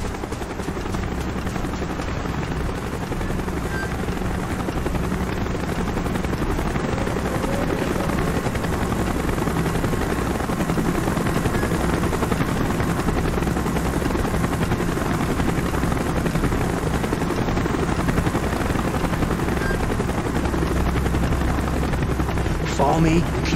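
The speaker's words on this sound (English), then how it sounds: "Chopper's inbound." Helicopter in the Call of Duty Black Ops desert sniper mission, a loud continuous rotor roar with heavy low rumble dominating throughout, with voices and possible gunfire mixed underneath.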